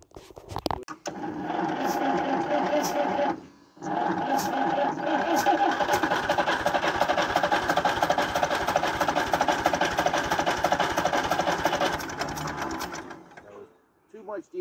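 An International B275 diesel tractor engine starts and runs with a steady, loud chugging clatter that is briefly interrupted, then keeps running before it cuts out near the end.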